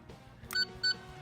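Fourteenth Doctor sonic screwdriver toy giving two short, clear electronic beeps close up, separated by a brief pause over faint background handling noise.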